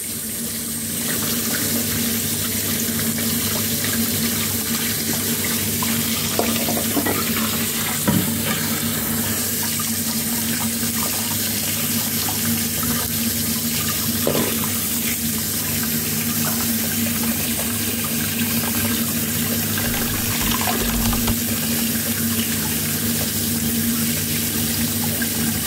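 Tap water runs in a steady, unbroken stream as eggs are rinsed under it at a kitchen sink, with no talking.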